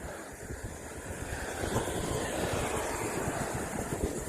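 Steady wind roars and buffets the microphone throughout a bicycle commute to work, a loud, continuous low rumble with no talking.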